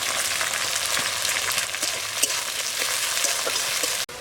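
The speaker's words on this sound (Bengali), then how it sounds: "কেটে রাখা পেঁয়াজগুলো দিয়ে দিলাম। কারি পাতাগুলো দিয়ে দিলাম, ওই সঙ্গে কাঁচা লঙ্কাগুলো দিয়ে দিলাম।" Onions, curry leaves and green chillies frying in hot oil in a pan, a steady close sizzle with faint stirring scrapes and one sharp click near the end.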